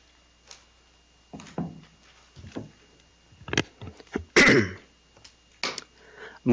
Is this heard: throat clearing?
yes